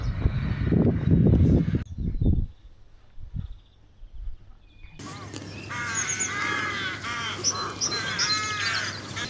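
Crows caw from nesting spots high in the trees near St Peter's Church in East Marden, a few loud calls at first, then quieter cawing and other birdsong carrying on in the open countryside.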